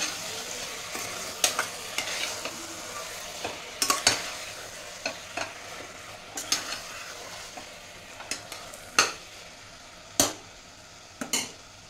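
A spoon scrapes and taps against a pan in irregular strokes as curry with coriander leaves is stirred, while it sizzles quietly underneath.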